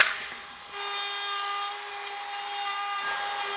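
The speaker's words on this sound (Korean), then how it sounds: "사포질 횟수가 늘어날수록 나무결이 더 선명하게 살아난다" Cypress wood being sanded by a power sander, a steady high-pitched whirring rasp with a constant tone, close up and continuous for a few seconds.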